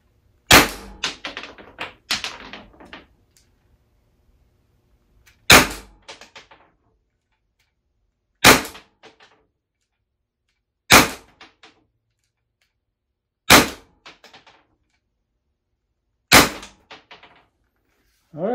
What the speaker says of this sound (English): Shooting for the red center mass right there of that little person.